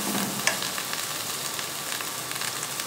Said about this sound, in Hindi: 1 मिनट फ्राई कर लेंगे काली मिर्च के साथ।